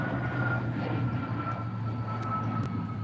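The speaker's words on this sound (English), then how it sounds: "airplane." Airplane passing overhead a backyard, a steady low rumbling drone with a faint whine that holds evenly throughout, heard from a distance.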